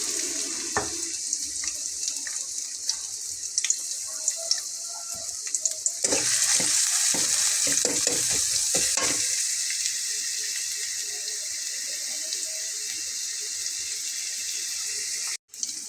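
Onions go into hot oil in a wok to fry for whole pan-fried tilapia, making a bright, steady sizzle that flares up sharply partway through, with clatter from stirring and no voices.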